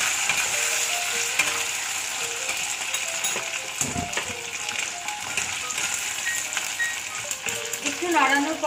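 Onion, capsicum and corn sizzle and get stirred in a pan, a steady crackling fry with scraping stirs and a brief clatter near the end, close and fairly loud throughout.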